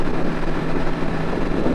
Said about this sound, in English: This has been the nicest ride going down a stretch of 70-mile-an-hour highway that I've had in a long time on a motorcycle.